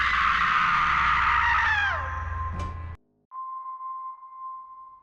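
A woman's shrill scream, Nika's in the Chucky TV series, rings out loud and sustained before sliding downward and cutting off abruptly, then a steady high electronic tone follows after a brief silence.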